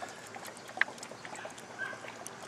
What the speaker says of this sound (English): Well, we definitely got bubbles